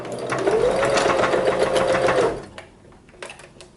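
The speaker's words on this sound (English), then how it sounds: "I'm going to do a 1/8 of an inch stitch along this edge that's closest to the" A sewing machine runs a steady stitch along a hem edge, sewing bias tape beside brocade fabric, a close whirring drone for about two seconds that stops, followed by a few light clicks.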